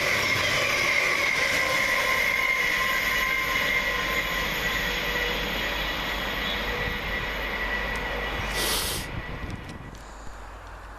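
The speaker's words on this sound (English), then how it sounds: "Running 4 minutes late for Govia Great Thameslink is 700 140." A Govia Thameslink Class 700 electric multiple unit passes through Welham Green station, a steady rolling rumble with rail hum and a brief high hiss near the end, loud and continuous with no voices.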